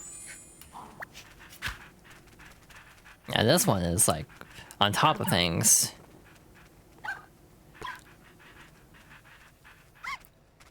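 A puppy pants and yips in Nintendogs, with quick breathy bursts and small whimpers scattered through the clip, one louder flurry in the middle, while someone talks over it.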